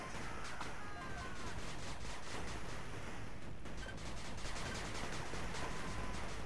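Rapid, steady gunfire from 8-Bit Armies crackles continuously as overlapping small shots in a busy skirmish, a dense fusillade sitting at moderate distance under faint game ambience.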